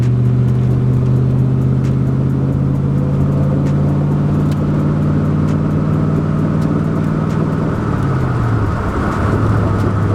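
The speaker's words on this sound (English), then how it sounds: "There it goes, it shifted, and we're going 40 miles an hour." A Ford Mustang Foxbody drives at road speed with a steady, loud engine drone; near the end the tone drops as the transmission shifts gears, then settles again.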